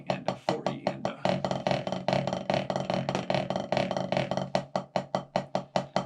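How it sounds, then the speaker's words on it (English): A snare drum in a beginning percussion lesson plays a steady run of evenly spaced sixteenth-note strokes, then moves into denser buzzing crush rolls, and returns to crisp separate hits near the end. "we're going to play one measure of 16th notes and then one measure of crushes"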